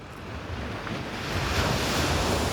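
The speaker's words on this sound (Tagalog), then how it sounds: "katabi lang namin ang dagat" Sea waves wash steadily onto a summer beach, a broad continuous roar of surf with wind buffeting the microphone, growing slightly louder toward the end.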